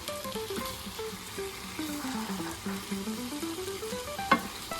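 Pasta primavera stirred in a hot pan, with a steady frying sizzle and light scraping of the spoon across the pan, close and moderately quiet, plus a sharp clink near the end.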